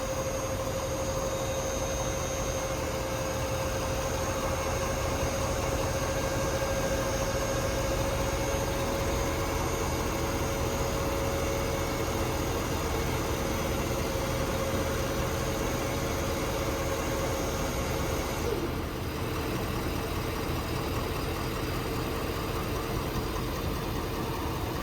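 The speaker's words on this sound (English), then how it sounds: "So this is the operation of the dump box." A 2023 Ford F-650 truck with a 6.7 PowerStroke diesel and a 13 ft aluminum hybrid dump body runs steadily with a close, loud idling drone and a hydraulic whine as the dump box operates, with no voices.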